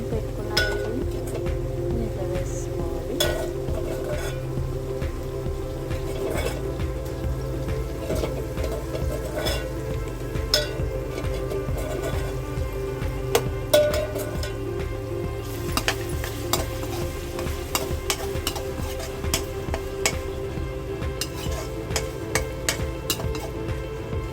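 Raw prawns and broad beans frying in a pan while being stirred: a steady, dense sizzle with a constant hiss and scraping, plus scattered clicks from the spoon, close up throughout.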